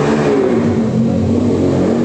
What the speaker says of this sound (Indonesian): ada suara motor besar sekali